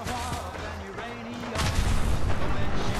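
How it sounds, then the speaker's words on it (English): In a shooter video game, a burning car explodes with a sudden loud boom that swells into a sustained roar of blast noise, after a stretch of gunfire-like rumble. "And now this car's on fire."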